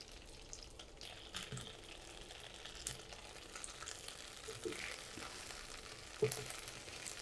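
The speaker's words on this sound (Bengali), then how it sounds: "ঢেঁড়সগুলো ভাজা হয়ে গেল, 4-5 মিনিট ভেজে নিয়েছি" Chopped okra, about 250 grams of washed and cut pieces, frying in a pan for a few minutes, giving a steady low sizzle with light stirring clatter and one sharper clink near the end.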